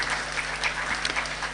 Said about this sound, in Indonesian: Tepuk tangan untuk Pak Gubernur kita yang tidak membeda-bedakan sekolah swasta dan negeri.